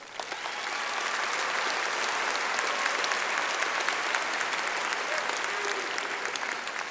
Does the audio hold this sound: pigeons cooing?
no